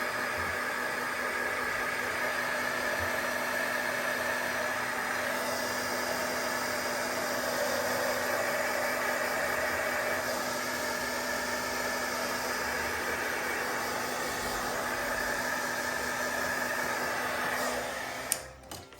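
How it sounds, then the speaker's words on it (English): A blower runs steadily and loudly throughout, a constant broadband whooshing hum with a faint tonal whine, close and unbroken until it cuts off near the end during a collage art session. "I keep trying to talk over the blower"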